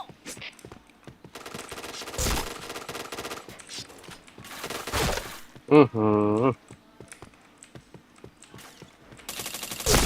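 Gunfire from a shooting video game comes in several loud, dense bursts spread across the stretch, separated by quieter gaps of background game sound and a brief rising-falling tonal sweep.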